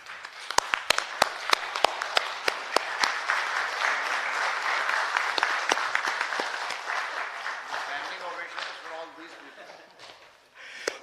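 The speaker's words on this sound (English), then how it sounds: "I think one standing ovation is definitely needed." A conference hall audience gives a standing ovation, with dense sustained applause, sharp individual claps standing out near the microphone, thinning slightly toward the end.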